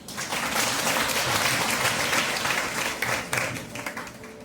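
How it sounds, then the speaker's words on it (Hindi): A church congregation breaks into loud, sustained applause during a Sunday sermon, a dense wash of hand claps that thins into scattered individual claps toward the end. "जोरदार ताली बजाएं।"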